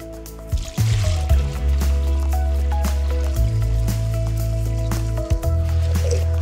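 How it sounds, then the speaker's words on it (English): Water topped up into a Trilex EverGol Pulse seed treatment mix, a steady close pour with low gurgling and splashing that dips briefly a few times before resuming. "then you want to top up again with the remainder of your 17 liters of water"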